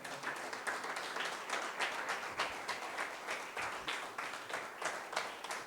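A church congregation applauds together in praise of God at an evangelical service, steady rhythmic clapping running throughout without pause, moderately loud and close, with no talking over it.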